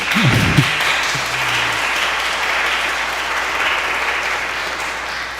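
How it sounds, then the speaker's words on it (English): An audience at a Christmas benefit concert bursts into steady, dense applause for David Jordan, a close, even wash of clapping that holds for several seconds without pause. "Big round of applause for David Jordan."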